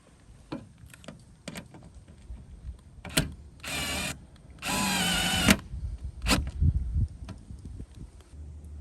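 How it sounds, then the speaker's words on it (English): A power drill drives screws into the front splitter of a 2015-2017 Ford Mustang, with two short whirring bursts between clicks and handling noises close by. "we are going to start tightening up those bottom screws"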